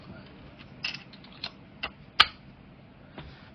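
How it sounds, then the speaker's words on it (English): Small clicks and ratcheting creaks as screws are driven into a QR adaptor on a Thrustmaster racing wheel, a few sparse metallic ticks with one sharp snap, close and quiet. "then we put in the screws which we supply"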